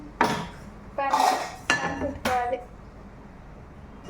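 A cooking pan is set down on a stove while making gongura pappu: four sharp, close metallic clanks and knocks spaced over a few seconds, followed by a quiet kitchen.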